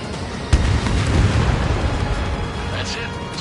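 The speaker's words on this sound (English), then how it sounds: "Enemy bomber down." A single heavy boom of an enemy bomber exploding in the combat flight game Ace Combat 7, hitting sharply early on and then rolling into a long rumbling decay over steady jet and battle noise.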